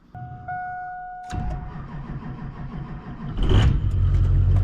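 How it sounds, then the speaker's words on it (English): Duramax diesel truck engine starting: a warning chime, then the starter cranks and the engine catches with a rough knocking idle, followed by a louder rev and steady running close by. "I'm gonna go start up my Duramax. Let that thing run for a little bit."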